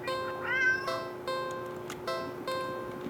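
A cat meowing in the video game Do Not Take This Cat Home, one clear rising-falling meow near the start over a steady, bright musical game background with soft chimes.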